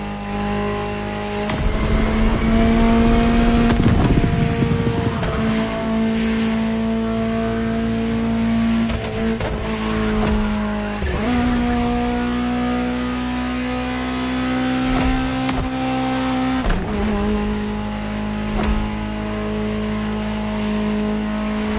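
A powerful Ferrari supercar engine in a video game, The Crew Motorfest, roars and revs continuously, pitch rising and dropping through gear shifts, loud and close with no talking.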